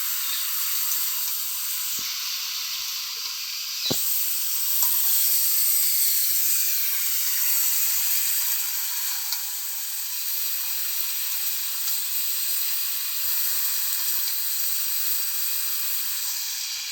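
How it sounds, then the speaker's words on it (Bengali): Meat seasoned with salt and spices fries in a pan, a steady, bright sizzle hissing continuously and loudly up close, with a couple of faint knocks early on. "এইভাবে আস্তে আস্তে মাংসগুলো ভালো করে কষে নেব"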